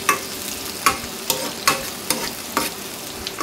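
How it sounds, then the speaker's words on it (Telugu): Green chilies and curry leaves frying in oil, stirred with a ladle: a steady close sizzle punctuated by regular scraping strokes about every second. "ఇప్పుడు మొత్తం కూడా ఫ్రై అయ్యే విధంగా ఈ విధంగా ఫ్రై చేసుకోవాలండి,"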